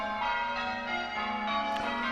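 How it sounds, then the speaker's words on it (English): Church bells ring steadily out in an English countryside village, a sustained metallic chime with layered overtones, moderately loud and without talk. "Listen to those bells on that church."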